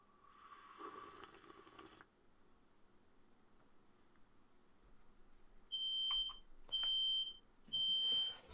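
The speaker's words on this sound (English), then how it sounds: "Fucking smoke alarm." Three loud, shrill electronic smoke alarm chirps come in a regular series near the end, following a quieter stretch of room noise.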